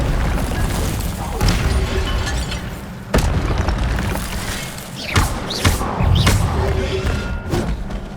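Fire spell bursts from Hogwarts Legacy gameplay: loud booming thuds and crackling blasts repeat at irregular intervals, with a voice speaking between them.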